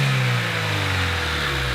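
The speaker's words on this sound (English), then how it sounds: "The only noise you really heard was the cold air intake" A Honda engine fitted with a cold air intake runs steadily, giving a smooth mid-pitched drone with intake whir and no talking.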